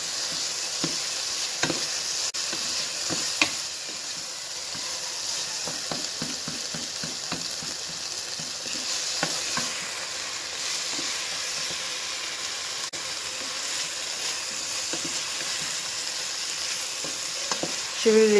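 Onions frying in a pan for a beef and potato stew, a constant loud sizzle with repeated scraping and clacking strokes of a spoon stirring them, no voices.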